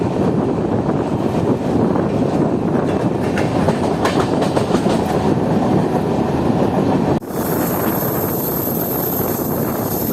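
The Kanchankanya Express rolls through Dooars tea gardens near Siliguri in monsoon weather, a loud continuous rumble with rhythmic clickety-clack from the rails and wind buffeting, heard close from aboard the moving train.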